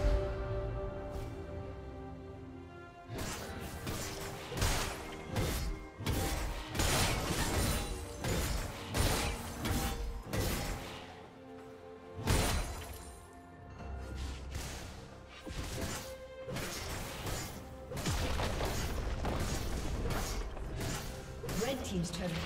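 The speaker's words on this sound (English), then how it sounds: "Red team's turret has been destroyed" Crashing impacts and whooshing effects from a League of Legends match as a turret is destroyed, a series of loud bursts and thuds repeating over about twenty seconds.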